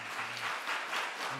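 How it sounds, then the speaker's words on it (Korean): Church congregation applause encouraging the choir during a Sunday service, soft blended clapping rolling in gentle swells, fairly faint and distant. "우리 박수로 한번 격려하겠습니다"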